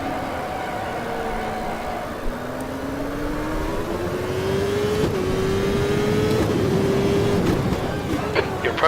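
Open-wheel race car engines in the Automobilista CART 1998 racing game on the Detroit street circuit: a loud, continuous high engine whine rises steadily in pitch as the car accelerates, with other cars faintly around it.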